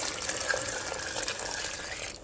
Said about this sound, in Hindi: ये हम असी कर देना ऐड पानी।